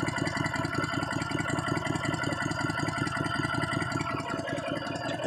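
A Honda GX160 small engine idles after a governor adjustment, a steady, even, fast-pulsing putter held close and unbroken throughout with no voices.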